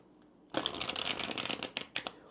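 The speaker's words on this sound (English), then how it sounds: "Go ahead and shuffle the deck here" A deck of tarot cards is shuffled close up after a brief quiet start, a dense run of crisp riffling flutters with a few sharp slaps near the end.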